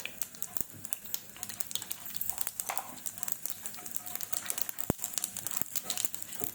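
Mustard seeds spluttering in hot oil, close rapid crackles and sharp pops scattered irregularly, with one louder snap, and no voice.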